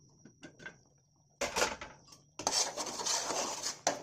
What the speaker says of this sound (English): So now I'm going to add my meat.